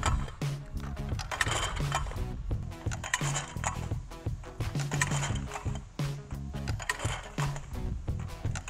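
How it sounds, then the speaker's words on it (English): The arm of a Mech 100E Wobble clay target thrower clunks and whirs as it nudges and sweeps, producing a repeating series of mechanical thumps and rattles at a moderate, steady pace. "turn both of the toggle switches to the off position and then just bump them to nudge the machine"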